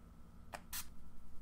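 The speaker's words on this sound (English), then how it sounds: "I'm gonna go ahead and spray some more of my RK by Kiss Never Touch Up setting spray onto the brush." RK by Kiss Never Touch Up setting spray misted onto a makeup brush: two short quiet hissing bursts, the second longer and stronger, against a faint low hum.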